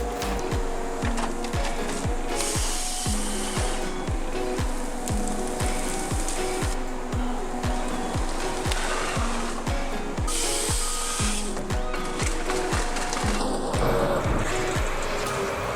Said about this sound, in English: Log debarking machine is an important equipment in the wood processing process at sawmills, especially in pine wood processing in Ukraine.